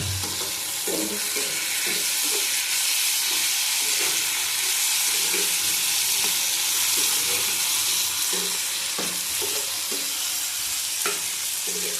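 Melted tomatoes and spices sauté in a hot pan for a moong-masoor dal with drumstick, giving a loud steady sizzle and hiss with soft stirring knocks at intervals.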